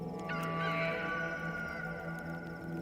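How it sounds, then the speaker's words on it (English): A rooster crows once in a long, strained call that rises sharply and then holds steady for more than a second, clear and fairly close, with no talking over it. "A second time, the rooster crowed."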